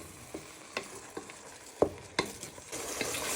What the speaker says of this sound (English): our mince and spices are nicely cooking for our Chinese beef stir fry